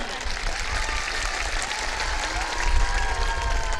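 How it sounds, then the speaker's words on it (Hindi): An election rally crowd in Mau breaks into loud, continuous applause, a thick, even wash of clapping close by with a slight surge near the end. "जोरदार तालियां बजाइए।"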